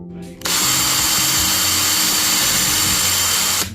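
A high, grinding power drill boring a hole in glass for a 10-gallon terrarium front runs steadily for about three seconds, loud and close, then cuts off abruptly.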